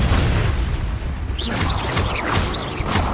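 A Bombarda spell explosion in Hogwarts Legacy, a heavy booming blast that rumbles low, followed by whooshing magical effects and scattered crashes.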